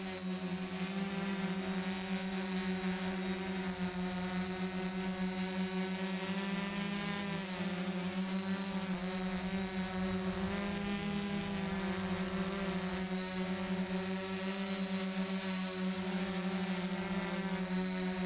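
A DJI F550 multicopter's propellers whine in a steady, continuous buzz throughout flight down a path at a leisurely speed, with high layered tones that waver slightly, close and constant with no voices.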